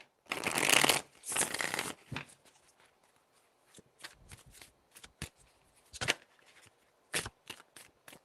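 Tarot cards shuffled by hand in quick riffling bursts near the start, then scattered soft taps and flicks of cards being handled, close and quiet with no talking.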